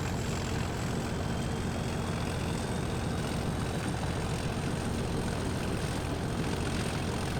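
A diesel locomotive engine runs at full throttle, a loud, constant heavy drone with a steady mechanical whine that holds unbroken throughout.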